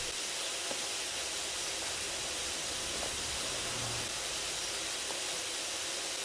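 Steady broadband spray from an ultra-wide pressure washer nozzle in PowerWash Simulator, a continuous hiss with no breaks, running alone at an even level throughout.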